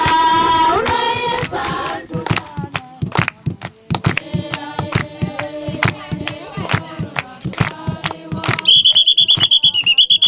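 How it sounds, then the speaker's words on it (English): At a Lesotho mogibo knee dance, sharp rhythmic beats drive along steadily before a shrill whistle blows in rapid repeated bursts near the end, loud and close. "Mogibo dancers are equipped with a whistle and a drum."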